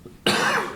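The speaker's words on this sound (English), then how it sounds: "Sorry, I just wanted to offer a cut opportunity for that cough." A single sharp cough bursts out close to the microphone after a brief quiet moment, then trails off over less than a second.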